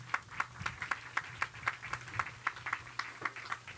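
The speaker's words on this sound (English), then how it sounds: "Come on, give them a round of applause too." Audience at a groundbreaking ceremony for a building development clapping in a sparse, rhythmic pattern, individual sharp claps spaced about a quarter second apart, fairly faint and heard from a distance outdoors.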